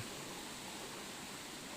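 Water flowing at Rayala Cheruvu waterfall near Tirupati, a faint, steady broadband rush with no distinct splashes and no voices.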